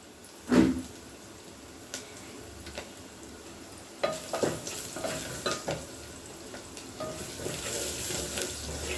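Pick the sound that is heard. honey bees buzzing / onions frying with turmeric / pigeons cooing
onions frying with turmeric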